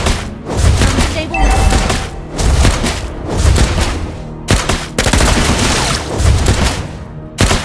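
Rapid bursts of gunfire from the marksman hero Clint in Mobile Legends, dense fusillades with booming impacts layered over busy game effects, loud and continuous with brief pauses.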